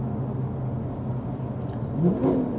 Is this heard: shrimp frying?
no